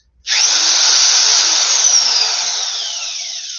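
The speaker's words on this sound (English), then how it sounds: "one of the things we got was this drill. And This is heavy duty" A heavy-duty power drill starts abruptly and runs steadily at high speed. The whine is loud and close and carries on without pause, its pitch easing down slightly toward the end.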